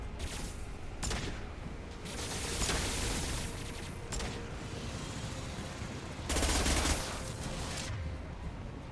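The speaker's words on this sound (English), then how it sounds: "Taking heavy fire." Heavy gunfire in the sci-fi shooter Mass Effect 2, with dense bursts of shots and explosive blasts rolling over a steady battle din, loudest around the middle and near the end.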